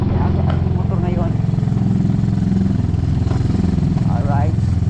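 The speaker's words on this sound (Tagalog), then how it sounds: "Meron lang lumuwag sa tornilyo kaya maingay yung ating motor ngayon." A motorcycle with a loose screw runs noisily and steadily close by, its engine drone carrying a faint rattle, while people talk over it.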